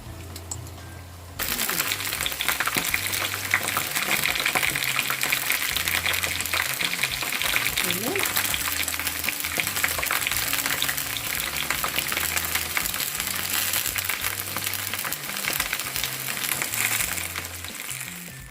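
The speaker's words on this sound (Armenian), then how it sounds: "արդեն տապակվել են մեր Ishli-կюֆթաները" Ishli kufta, stuffed kibbeh, frying in a pan, giving a steady broadband sizzle that starts after a quiet opening and carries on loudly for the rest of the time, with faint background sounds mixed in.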